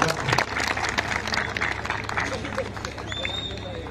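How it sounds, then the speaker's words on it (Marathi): A crowd at a kusti wrestling bout in Pune applauds the wrestlers, dense continuous clapping and crowd murmur under talk. "टाळ्या करा दोघांच्यासाठी"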